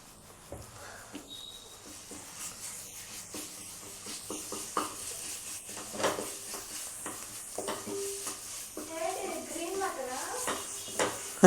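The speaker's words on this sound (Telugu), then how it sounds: "కొంచెం అల్లం వెల్లుల్లి పేస్ట్ వేసుకుందాం." Ginger garlic paste fries in a pan at home, a quiet sizzle broken by occasional stirring and utensil clinks, with voices talking over the cooking.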